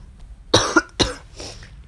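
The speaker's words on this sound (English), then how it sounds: "I had a whole streak in where I wasn't coughing for a while." A person gives two sharp coughs in quick succession, close and loud, followed by a softer third cough or throat sound.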